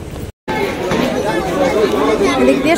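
Crowded chatter fills a busy railway platform at Sealdah station, many overlapping voices forming a loud, close babble after a brief cut.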